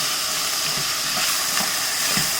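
Medium-cut carrot pieces and green peas sautéing in a hot pan make a steady, close hiss with faint crackle throughout, no voices.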